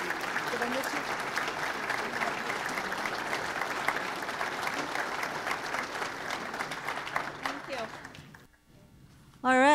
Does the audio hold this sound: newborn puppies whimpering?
no